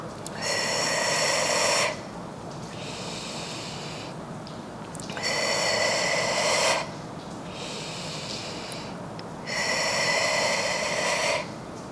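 A person draws three long, audible breaths in during a pelvic floor muscle exercise, each lasting about two seconds with quieter pauses between them, close and clear.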